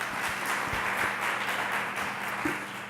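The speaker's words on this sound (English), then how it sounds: "please not to interrupt with your applause" Applause from an audience at a congressional candidate forum, a steady wash of many hands clapping together that holds at moderate loudness throughout, with no voices over it.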